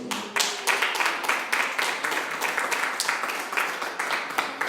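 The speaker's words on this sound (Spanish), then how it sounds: "denle un aplauso" A church congregation applauds: loud, close, fairly even rhythmic clapping from many hands, sustained without a break.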